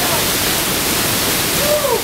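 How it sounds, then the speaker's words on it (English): Roar of the large Pailón del Diablo waterfall in Ecuador, a loud steady broadband rush filling the whole clip with no break, heard from close below the falls. "I'm standing here below one of the largest freaking waterfalls in the whole country of Ecuador"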